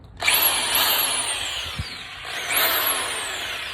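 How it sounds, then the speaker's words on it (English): An electric drill whines up to speed in short rising bursts, close and steady, with a brief clunk partway through. "now I got the drill hooked up into it"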